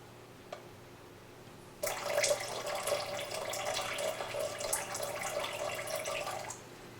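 Water pours steadily into a measuring container while a silicone rubber boat mold is being cast, a bright continuous trickle starting after a short quiet pause and running for about five seconds before stopping abruptly.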